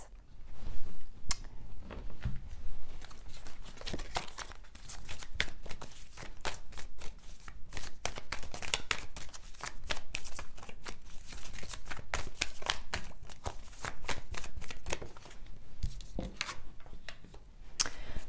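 Tarot cards being shuffled by hand, a continuous crisp riffling and flicking of card stock in quick repeated bursts, close and clear with no talking.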